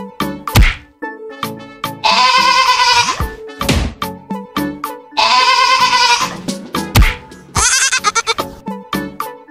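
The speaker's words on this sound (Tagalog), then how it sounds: "Walang pinaligtas ang kambing na ito." An aggressive goat that attacks passersby bleats loudly several times in long wavering cries, broken by sharp thwacks and thumps of impacts.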